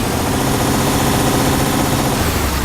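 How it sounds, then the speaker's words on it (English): A truck's V6 engine in Euro Truck Simulator 2 drones steadily and loudly around 1500 RPM, a continuous low rumble with no pauses. "Nice drum from that V6. 1500 RPM, up to 2000."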